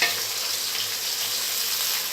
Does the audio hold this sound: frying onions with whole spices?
yes